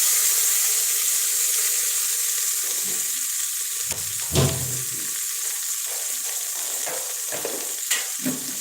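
Chopped onion sizzles in a pan of hot oil with roasted cumin, a steady bright frying hiss close by, broken by a few scraping stirs and clinks of a spoon against the pan.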